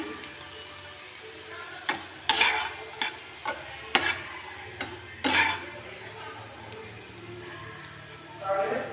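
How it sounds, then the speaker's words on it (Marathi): Bitter gourd with a little oil being stirred in a pan, a series of sharp spoon clacks and scrapes against the metal over a faint sizzle, with speech around them. "आता याच्यामध्ये घालूया आपण थोडंसं तेल कारल्याच्यावर आणि याला हलवून घेऊया"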